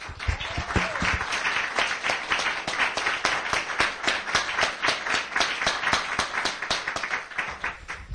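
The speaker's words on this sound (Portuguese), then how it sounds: "Então vamos dar uma salva de palmas para essa palavra?" A church congregation breaks into steady, sustained applause, many hands clapping together in a dense, even wash that lasts throughout.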